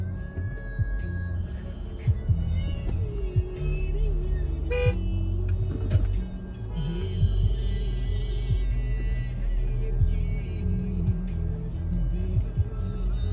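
Car horns toot repeatedly in a traffic jam, short honks scattered over a constant low engine rumble of idling vehicles, some near and some farther off.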